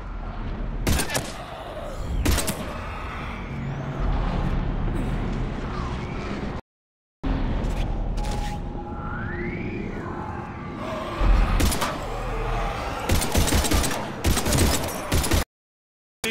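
Mass Effect 3 combat: bursts of rapid gunfire and blasts crackle through loud, dense action, with sci-fi weapon whines and a brief silent gap, while voices shout in the fray.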